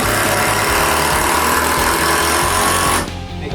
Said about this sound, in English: if you really don't like that noise, you don't have to use a ratchet gun